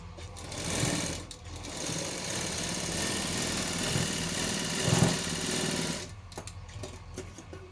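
A sewing machine runs steadily while stitching a long frock, the presser foot guiding the fabric around a curve; a loud continuous motor whir lasts about five seconds before stopping, with no talking.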